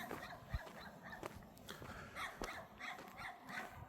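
Several neighbourhood dogs, about four, bark and yip at a distance near a rural house, irregular bursts scattered over outdoor background noise.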